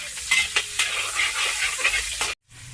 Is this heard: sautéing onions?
yes